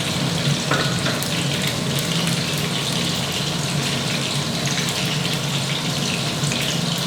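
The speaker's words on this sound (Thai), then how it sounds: "ใช้ไฟกลางนะครับทอดจนเหลืองนะครับ" Pork pieces with garlic frying in oil over medium heat, a dense, continuous sizzle and crackle that stays loud and close throughout, with no voices.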